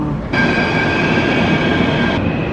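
An Athens metro train rumbles loud and close, with a steady roar and bright high whine from wheels and motors that starts abruptly and holds for about two seconds.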